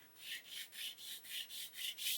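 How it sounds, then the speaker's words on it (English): A sanding stick gently rubs the sprue gate off a plastic 1/35 Rye Field Model M109A7 track link: about seven close, rhythmic back-and-forth strokes, soft and scratchy, with no talk. "just take my sanding stick and just gently sand over the end to get rid of"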